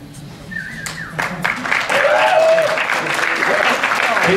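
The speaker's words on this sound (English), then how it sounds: "Please give them a big round of applause." A convention crowd breaks into sustained applause for special guests on stage, swelling and holding steady, with scattered claps at first.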